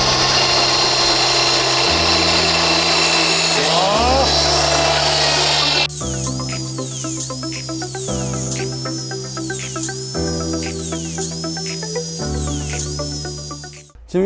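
A high-speed cut-off saw fitted with a 14-inch metal-cutting blade runs through a cut, a loud, sustained whine whose pitch shifts and steps as the blade bites, heard close up, with a brief hum settling toward the end.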